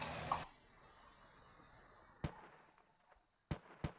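Gunfire in a zombie shooter video game: a loud sharp burst at the start, then three separate sharp shots, one near the middle and two close together at the end, with quiet stretches between.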